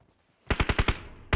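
Automatic gunfire in the PUBG Mobile battle royale game: a rapid burst of about five loud, close shots after near silence, then one more sharp shot at the end.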